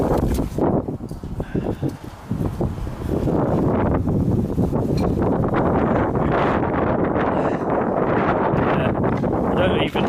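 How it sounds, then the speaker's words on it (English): Strong wind buffeting the microphone beside the River Humber at an abandoned fishing building in St Andrews Dock, Hull, a loud roaring gusty rumble that builds and stays heavy, with a person talking under it. "I don't even know if you can hear me really because it's so windy today."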